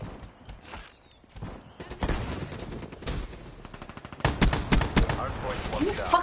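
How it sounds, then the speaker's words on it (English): Rapid gunfire from a multiplayer shooter game's hardpoint match, bursts of shots crackling throughout and growing louder and denser in the second half, with a voice speaking over the action. "Who the fuck is shooting me?"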